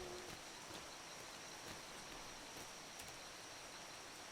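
Faint, steady rain hisses over a video game village beside a castle build, an even wash of patter with no voices and no change in intensity.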